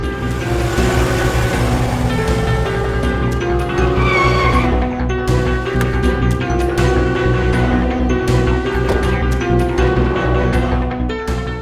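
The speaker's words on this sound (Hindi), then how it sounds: "ड्राइवर प्लीज गाड़ी रोकिए, मेरी मेरी तबीयत बहुत खराब हो रही है, प्लीज प्लीज साइड पे रोक दीजिए।" A car brakes hard and skids to a stop, tires squealing, set against loud continuous background music in a TV crime drama.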